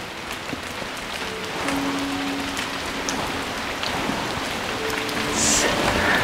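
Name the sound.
rain falling outside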